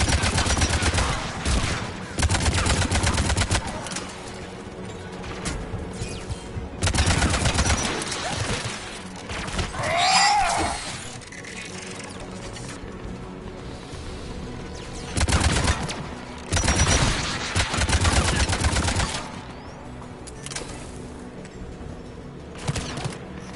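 Anti-aircraft guns firing in the Mass Effect 3 video game, heard as loud, dense bursts of rapid gunfire that come and go in several waves, with quieter rumbling stretches between them.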